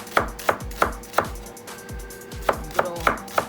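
A knife chops shallots into thin slices on a cutting board, giving about ten sharp, evenly spaced taps in a steady rhythm, close and clear, with no talking.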